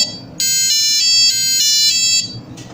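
A tilt-triggered alarm on an ESP32 circuit with an SW-520D tilt sensor sounds a loud steady electronic tone for about two seconds. It cuts off, then briefly starts again.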